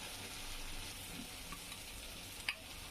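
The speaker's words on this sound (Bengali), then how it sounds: "এখন আমি জিরা বাটা দিয়ে দিই।" Cumin paste hits hot mustard oil while chicken cooks village style in Bangladesh, giving a steady, fairly quiet sizzle with a small crackle partway through and no voices.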